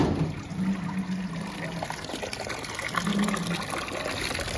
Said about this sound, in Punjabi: ਇੱਥੋਂ ਐਂ ਟੂਟੀ ਜੀ ਖੋਲ੍ਹ ਦਿਓ ਸਾਰਾ ਪਾਣੀ ਬਾਹਰ ਹੈ